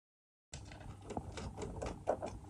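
A home sewing machine stitches fabric in a quiet run of rapid mechanical clicks and whirring that starts abruptly and continues to the end.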